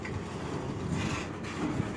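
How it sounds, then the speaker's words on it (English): A low, steady rumble of a heavy CSX autorack freight train starting to move past, continuous and fairly loud throughout the short stretch, in Marion, Ohio. "Please keep your dang train moving."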